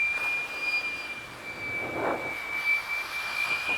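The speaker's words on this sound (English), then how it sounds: "let's get the blower going" A blower dries a freshly waxed car with a steady, loud, jet-like roar and a high whine running throughout.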